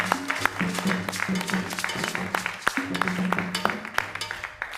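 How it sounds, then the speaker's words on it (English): Audience applause welcoming the head of Insura Sports at a Ghana football stakeholders' evening event, a sustained, dense clapping crowd with a voice and harmonic tones mixed through, steady and fairly loud for the whole stretch. "with a big round of applause, please help me welcome the head of Insura Sports, Bismarck Owusu Bempa,"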